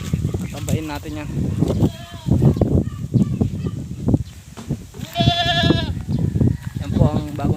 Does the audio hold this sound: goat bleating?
yes